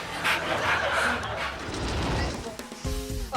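A dog barks and yips in short bursts amid a busy, noisy scene, with people talking over it and a clattering crash near the end.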